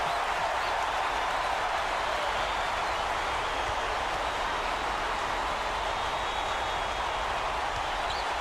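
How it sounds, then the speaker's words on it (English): A dense, constant roar of a video game college basketball crowd, loud and unbroken throughout, like a packed arena cheering, in College Basketball 2K8. "This crowd is going insane. I love the energy of this building. Listen to them."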